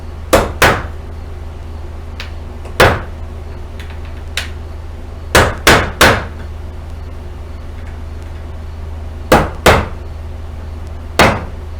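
Sharp hammer whacks on wood while a pallet is broken apart, about a dozen loud isolated strikes in irregular clusters, some in quick pairs, over a low steady hum.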